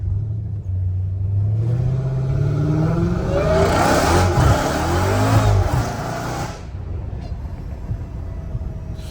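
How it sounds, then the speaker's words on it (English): Straight-piped 850 hp Dodge Challenger Hellcat Redeye cruising with a loud close engine rumble and rising whine under light throttle, tapering off near the end. "I love how it's whining right now and I'm not even gassing it."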